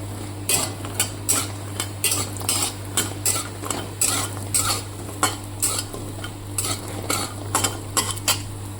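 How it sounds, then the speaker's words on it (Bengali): Lentil bori frying in mustard oil in a pan, with a steady sizzle under regular, rhythmic scraping strokes of a spoon stirring them, close and fairly loud, with no talking. "ডালের বড়িটাকে ভেজে নেব একটু তো রিফাইন তেল শেষ হয়ে গেছে সরষার তেল দিয়ে ভেজে নিলাম"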